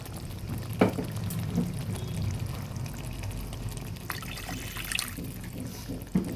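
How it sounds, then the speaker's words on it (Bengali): Water poured into a pot of katla fish curry with sesame, a continuous close trickle and splash running steadily with a few louder gurgles, no talking over it. "এবার পরিমাণ মতো জল দিয়ে দেবো"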